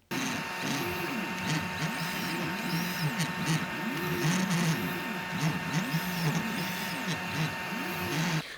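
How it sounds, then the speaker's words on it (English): A small budget 3D printer hums steadily with a constant fan whir, while its stepper motors whine in shifting, sweeping tones as the head moves. "Here's a little snippet of how it sounds in action."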